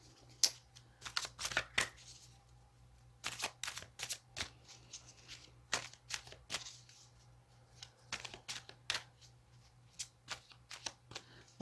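Tarot cards are shuffled in repeated quick bursts of crisp riffling and slapping, close and quiet, with pauses between bouts against a faint low hum.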